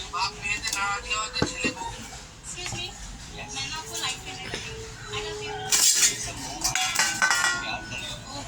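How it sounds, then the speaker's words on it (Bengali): Cooked rice is served onto a plate in a home kitchen, with light clinks and scrapes of a spoon against dishes under a person talking, and a voice nearby. "এবার আমি ভাতটা পরিবেশন করব।"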